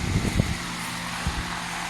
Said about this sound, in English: Apologize for the wind. I'll try to block it as much as I can.